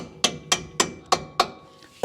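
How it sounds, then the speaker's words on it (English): Six sharp metallic hammer taps on a bolt during a 2022 Toyota Tundra front lift install, close and evenly spaced, with a short pause before the last strike. "Take a hammer and just gently tap it through."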